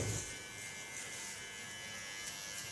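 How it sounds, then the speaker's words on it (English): Small electric hair clipper trimming fine baby hairs along a hairline, a faint steady buzz that stays even throughout, quiet and close with no talking. "Clean the underlines with a small clipper, get rid of all the baby hairs."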